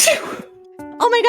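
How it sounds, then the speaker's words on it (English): A single small, high-pitched sneeze from a person, close and clear, followed moments later by a voice talking. "World's cutest sneeze."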